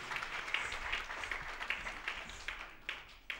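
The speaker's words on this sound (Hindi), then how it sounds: "उनके लिए एक जोर से ताली" Scattered applause from an audience after an Odissi classical dance performance, fairly distant and thin, with irregular clap bursts rising and falling over a light background murmur.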